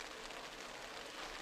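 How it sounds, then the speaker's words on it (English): Steady, faint hiss of rain falling, an even wash of noise with no voices. "So rain continues to fall here"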